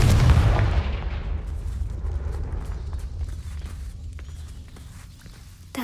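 In the video game Hogwarts Legacy, a Confringo fire spell blasts with a sharp, loud boom that decays into a rumbling tail, alone with no talk.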